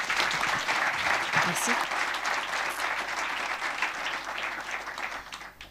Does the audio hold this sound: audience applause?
yes